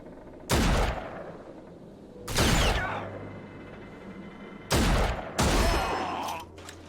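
Four loud, close shotgun blasts from a first-person shooter, RAGE, each a sharp boom with a ringing tail, fired in two pairs with brief pauses between them and no talking.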